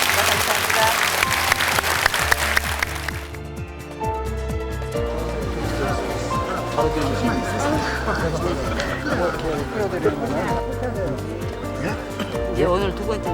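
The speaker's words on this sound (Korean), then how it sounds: "선생님께 더 큰 박수 보내주시기 바라겠습니다" Lecture attendees in Gwangju clap for an acupuncture and moxibustion teacher with a short burst of full applause lasting about three seconds, then the clapping stops and music takes over.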